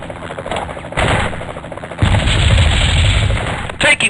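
Gunfire in the video game Spycraft, with dense bursts of shots rolling into heavy continuous fire and loud rumbling blasts, close and intense.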